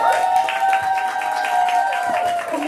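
An audience applauds at a volunteer award ceremony with a steady burst of clapping and some crowd noise, a sustained tone running underneath, lasting a couple of seconds before fading slightly.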